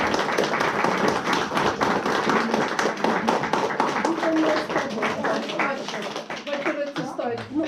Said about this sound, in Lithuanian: Aš manau, kad jie dar nusipelno aplodismentų.